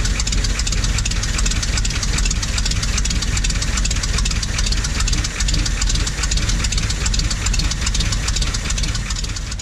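A rough-running offroad recovery truck engine with a bad exhaust leak and a badly out-of-tune carburetor, chugging loudly and steadily up close with an uneven, knocking idle throughout and no voices.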